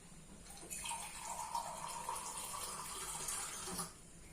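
Hot water pours into a pot of matki curry as a steady splashing stream lasting about three seconds, close and fairly quiet, then it stops.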